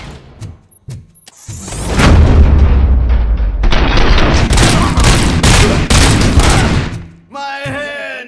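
Heavy gunfire erupts in the video game RoboCop: Rogue City, a few sharp isolated shots giving way to a sustained loud barrage of rapid bursts, then a brief lull before a voice speaks.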